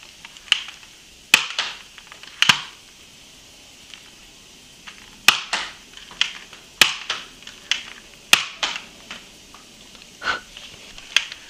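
Sharp, snappy pops of a Nerf Doomlands Persuader foam dart blaster firing, close and crisp, spaced irregularly over several seconds with a few quicker clusters, separated by quiet handling noises.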